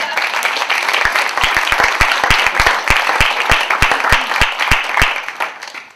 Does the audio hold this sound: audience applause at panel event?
yes